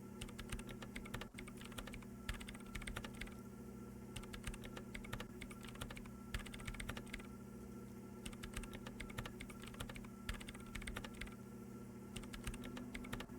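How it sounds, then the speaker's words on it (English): Rapid keyboard typing as hands enter hundreds of commands into a machine in Disco Elysium, steady clattering keystrokes running throughout over a constant low electrical hum, no voices. "Her hands typing hundreds of commands into the machine."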